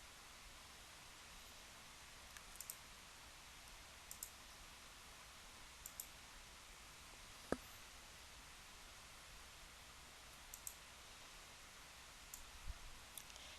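Computer mouse clicks while moving through a course file manager, a handful of soft, sharp clicks spaced irregularly over a steady hiss, quiet and alone.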